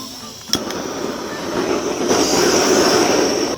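A jet burner preheats a pellet stove with a steady, rushing roar, preceded by a couple of sharp clicks, and the roar swells a little louder partway through.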